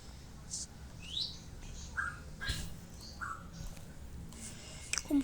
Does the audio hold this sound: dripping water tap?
no